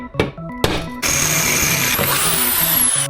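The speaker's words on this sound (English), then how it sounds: "I'm just going to drill a small hole through this bracket" A drill whirs into a metal seat bracket after a couple of thunks, a steady close grinding with a high whine, over quiet background music.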